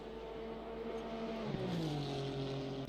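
A race car engine at Imola in a sim racing game, droning steadily then rising in pitch as it accelerates through the gears, loud and close with no talk.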